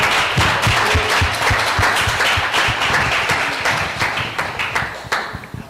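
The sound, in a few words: applause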